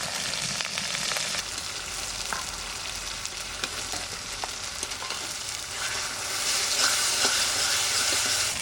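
Onion, ginger, garlic and chili frying in a pan for chicken kosha as a little water goes in, giving a loud, continuous close sizzle with crackling that swells near the end, no talk over it.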